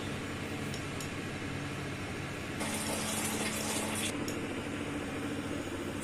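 Finely cut potato sticks for chilli potato being washed in water, heard as a low watery swish that swells into a brief louder gush of running water midway, then settles again, with no talking.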